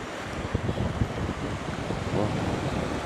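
Sea waves washing onto a beach in Cyprus, a continuous broad rushing wash mixed with heavy wind buffeting the microphone, steady and fairly loud with no clear talk.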